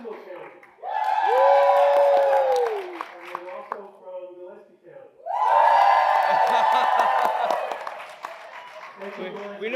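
A town hall crowd in Fredericksburg, Texas, erupts twice in whoops, cheers and clapping for their county, each burst loud and sustained for a few seconds, with a speaker's voice between them.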